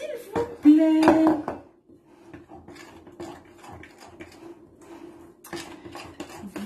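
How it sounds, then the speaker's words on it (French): Chocolate orange cookie dough being stirred in a bowl, giving a scraping, clinking run of utensil-on-bowl sounds, loud at first and then softer and steady, with a brief voiced sound near the start. "Voilà, je continue à mélanger."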